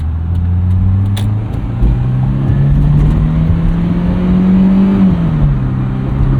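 A 1991 Nissan Figaro's engine hums loudly from inside the moving car, a steady low drone that rises in pitch as it accelerates, then drops as it shifts, with road and wind noise underneath.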